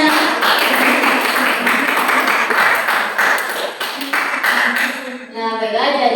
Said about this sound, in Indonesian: Tepuk tangannya anak